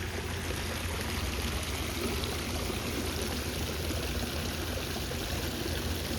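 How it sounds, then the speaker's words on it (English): Small waterfall spilling from a garden water wheel into a lily pond with koi, a steady close splashing and trickling rush that runs unbroken throughout, with no voices. "There's a little waterfall from the water wheel."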